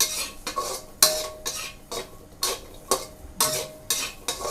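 Thai chili paste cooking with pork, garlic and shallots in a pan, a utensil scraping and clinking against the metal in a quick, regular rhythm of strokes over a soft sizzle.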